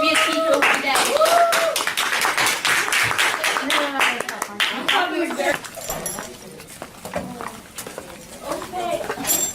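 Students in a middle school knitting club applaud a classmate, giving a burst of dense clapping that fades over several seconds. Voices talk and call out around it.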